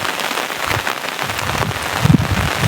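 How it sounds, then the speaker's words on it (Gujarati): Heavy rain pours steadily and loudly onto surfaces in a rural village, a dense, unbroken hiss close by with no talk. "એમ વરસાદ આટલો પડે ને."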